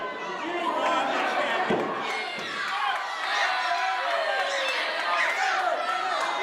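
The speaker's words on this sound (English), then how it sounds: "The crowd in very vocal opposition to Kelly." A wrestling crowd at an independent championship show voices loud, sustained disapproval of a wrestler, a dense roar of jeers and chatter with a sharp thud partway through and a commentator talking over it.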